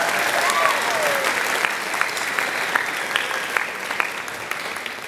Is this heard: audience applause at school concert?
yes